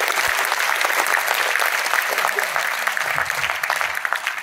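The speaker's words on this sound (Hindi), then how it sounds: "इनका जोरदार ताली।" A large audience at a motivational event applauds loudly and steadily, a dense close wash of clapping that continues throughout and tapers slightly at the end.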